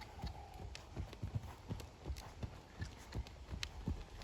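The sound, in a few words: horse trotting, hooves clip-clopping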